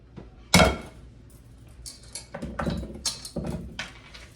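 A metal cooking pot is handled in a home kitchen, with one sharp clank followed by several lighter knocks and scrapes of metal, close and fairly clear with quiet gaps between.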